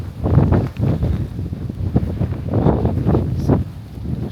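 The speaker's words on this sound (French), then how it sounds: "Je sais pas si on va bien m'entendre avec le vent" Gusty wind at White Beach in New Zealand blasting across the microphone, loud, close rumbling bursts rising and easing in uneven waves with no speech over it.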